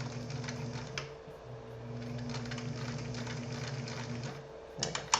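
A sewing machine backstitches in a rapid, even mechanical patter with a low motor hum beneath, running close and steady, pausing briefly near the middle, and ending with a few sharp clicks.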